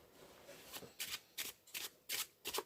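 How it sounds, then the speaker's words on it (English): A spectator shuffles a deck of playing cards for a card magic trick, producing about six crisp riffle bursts in quick succession, close and fairly loud, with no talking. "Don't forget, this is the spectator shuffling."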